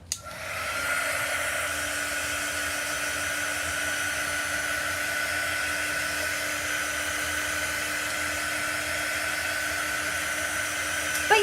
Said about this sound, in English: let's go ahead and get these out here and hit them with the dryer